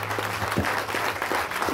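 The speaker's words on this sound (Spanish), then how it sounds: "Te damos un fuerte aplauso a ti" A church congregation claps in applause during a Spanish-language worship service, steady and close, with a low sustained tone underneath and brief voice fragments.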